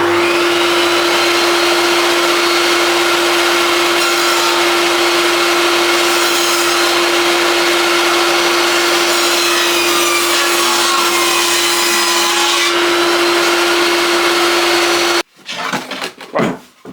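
A power saw ripping rough sawn wooden planks for a National beehive build, a loud, sustained whining roar that runs steadily for about fifteen seconds and then cuts off, leaving a few short knocks and handling sounds.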